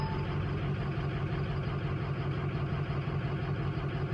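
A truck engine idles roughly with an uneven, loping rhythm, a steady low rumble that sounds close and continuous with no talking over it.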